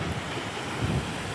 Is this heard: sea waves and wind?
yes